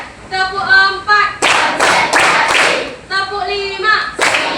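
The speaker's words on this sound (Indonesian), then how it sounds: "Tepuk 1, tepuk 2, tepuk 3, tepuk 4," Group hand claps in a classroom ice-breaking counting game, a quick burst of sharp claps between stretches of a teacher's chanting voice, fairly loud and close.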